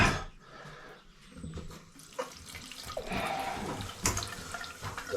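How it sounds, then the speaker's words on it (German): Water runs from a tap into a washbasin after a clogged drain is cleared with a spiral, an uneven close splashing flow that starts quietly and grows louder, with occasional knocks. "Jetzt wollen wir gleich Waschbecken laufen."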